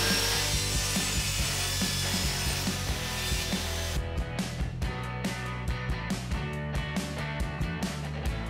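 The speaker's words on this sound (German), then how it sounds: "Also nur noch einspannen und dann mit der Tischkreissäge zuschneiden." A table saw whines steadily through wood, with a dense, loud cutting noise that shifts into rapid rasping bursts partway through. No talking.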